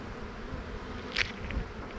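Honeybees buzzing around hive boxes in a bee yard, a steady dense outdoor drone of many insects with one louder bee passing close by.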